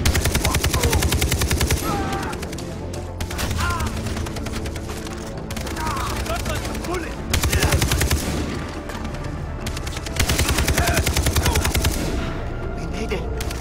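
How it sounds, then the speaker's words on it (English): Heavy automatic gunfire aimed at a man in a village, long bursts of rapid machine-gun shots in loud sustained volleys broken by short pauses, close and intense with no clear talk. "I'm getting shot at!"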